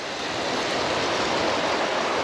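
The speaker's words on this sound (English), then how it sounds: "Yes, that's the ocean." Ocean waves on the Labrador coast near a camp, a loud, steady wash of surf noise that fills the short stretch without a break.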